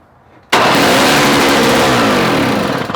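A Toro 17-inch two-stroke snow-thrower engine with the choke on and a badly set float bursts into life after half a second of quiet. It runs loud and close at a high, buzzing idle with a slight wavering toward the end.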